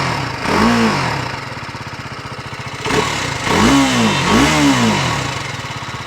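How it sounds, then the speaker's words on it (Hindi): A 2025 TVS Apache RR310 motorcycle exhaust rumbles at idle, then the rider blips the throttle several times, each rev rising and falling in a loud, close roar. "मैं अभी इसको आपका एग्जॉस्ट का साउंड सुना दूँ।"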